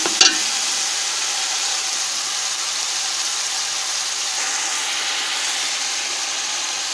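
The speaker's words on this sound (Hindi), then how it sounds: "मटरों को हम भूनेंगे।" Peas fry in a pan of oil for a vegetable pulao, giving a steady, even sizzle close by after a brief clatter at the start, with no talking.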